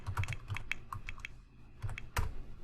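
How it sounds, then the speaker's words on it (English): Quick clicking keystrokes on a computer keyboard as a cheat code is entered in The Sims 4: a quick run of taps, a brief pause, then a few more, close and fairly quiet. "So first you have to type in testing sheets on"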